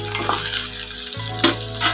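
A slit green chili fries in a hot pan with a bright, continuous sizzle while it is stirred, with light scraping and crackle close by.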